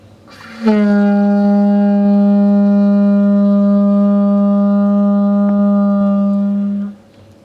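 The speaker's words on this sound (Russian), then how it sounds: "Можно, чтобы рог прозвучал успокоительно?" A horn blown to calm livestock sounds as one steady, loud, sustained note rich in harmonics, lasting about six seconds alone before it cuts off.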